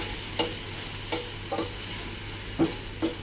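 Onions sizzle softly in a pan as a splash of brown vinegar reduces, a low steady hiss broken by a few sharp taps of a utensil stirring at irregular intervals.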